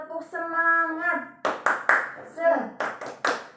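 A class performing a rhythmic motivational clap chant, a voice singing first, then a run of sharp, evenly spaced hand claps mixed with chanted voices, close and clear.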